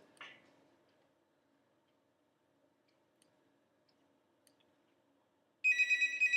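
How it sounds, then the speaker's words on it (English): A phone ringtone cuts in near the end of a quiet podcast recording session, a loud repeating electronic trill that pulses several times after nearly silent room tone. "Oh, and now my phone rings."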